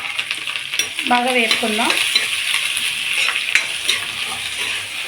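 Onions, green chillies and curry leaves hit a hot pan for a mixed drumstick, mango and tomato curry, giving a steady close sizzle with stirring scrapes while someone speaks briefly over it.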